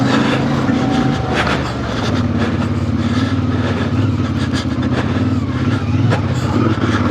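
A 2026 CF Moto IBEX 450 motorcycle engine hums steadily while riding off road, a loud, continuous mid-rev drone with slight pitch shifts and rough terrain noise riding over it.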